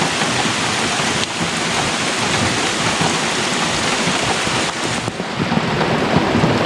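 Steady heavy rain pours on the deep woods of northern Minnesota, with rolling thunder rumbling under the downpour, loud and continuous throughout with no voices.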